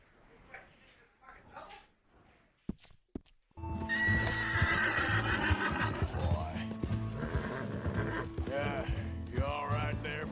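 A horse in the Western video game Red Dead Redemption gets struck and lets out a loud, cartoonish whinny with hoofbeats, following a few seconds of quieter sounds and two sharp knocks.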